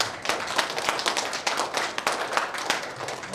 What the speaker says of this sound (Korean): 다시 한번 감사의 박수를 드립니다.